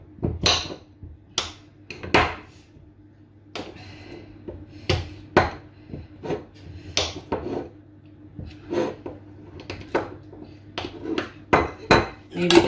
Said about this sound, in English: So I have butter, which I'm going to cut up with the apple knife.